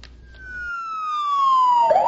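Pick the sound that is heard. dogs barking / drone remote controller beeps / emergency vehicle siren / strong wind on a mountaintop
emergency vehicle siren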